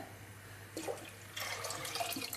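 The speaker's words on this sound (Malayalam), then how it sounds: "അതിന് ശേഷം വെള്ളം ഒഴിക്കുകയാണ് ഞാൻ" Water pours into a pot of rice for Malabar chicken biryani, starting as a soft splash and swelling into a steady, fuller stream near the end, close and moderately quiet with no voices.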